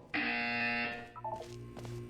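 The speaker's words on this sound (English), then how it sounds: "When you hear the buzzer, look down at the floor." A harmonic electronic buzzer in Portal 2 sounds once for under a second, loud and close, followed by a softer trailing tone and faint background hum, with no voice over it.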